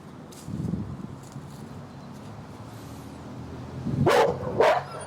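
A dog in heel training gives a couple of short, sharp barks near the end, close and fairly loud over quiet background.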